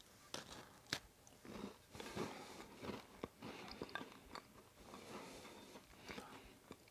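Crisp biting and crumbly chewing of homemade Christmas shortbread made with rice flour, butter and sugar: close, repeated crunchy bites and chews in an irregular rhythm, with no talking.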